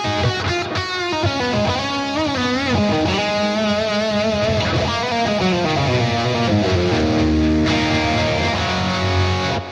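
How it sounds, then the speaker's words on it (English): Dense, sustained guitar music drenched in reverb and effects from a Blackstar St James amp plugin, chords ringing out and blending together at a steady loud level throughout. "A bit of reverb."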